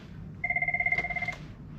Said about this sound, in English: oh, I have a phone call